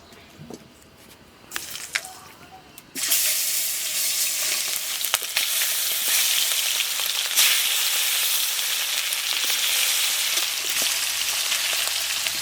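Grass carp frying in hot oil in a kadai, a quieter patch giving way at about three seconds to a loud, steady, broadband sizzle that continues without a break, close by and with no talk over it.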